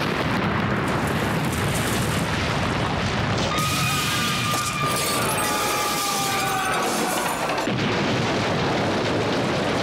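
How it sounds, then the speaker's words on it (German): Truck bomb blast at an embassy in Nairobi, reconstructed: a loud, sustained roar of broadband noise fills the clip, with shrill alarm-like tones ringing through the middle section before the rumble continues. "Die Gewalt der Explosion hat das Ufundi-Building einstürzen lassen."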